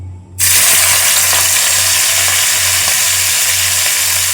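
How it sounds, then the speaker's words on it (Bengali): Fish frying in hot oil in a home kitchen, a loud steady sizzle that bursts in suddenly after a brief quiet moment and holds constant, with faint pops and a low hum beneath. "তেল গরম করতে দিয়ে দিয়েছি চলুন আস্তে আস্তে করে মাছ ভাজবো"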